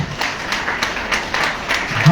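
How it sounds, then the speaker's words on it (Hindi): A standing audience at an award ceremony gives a dense, continuous round of applause, loud and sustained, with a voice partly over the clapping. "सभी लोग खड़े होके एक बार हमारे डीआईएस साहब के लिए खड़े होकर ताली बजाना है"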